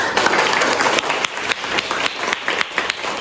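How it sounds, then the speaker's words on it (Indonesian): Students clapping in a school classroom, a steady patter of many hands with sharper individual claps standing out, moderately loud and continuous. "tepuk tangan dulu"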